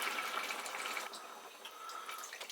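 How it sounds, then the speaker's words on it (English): A cupful of water pours into a pot of Polish hunter's stew of meat and cabbage, a steady close splashing stream for about a second that thins into softer trickles and drips. "I'm going to add about another cupful of water"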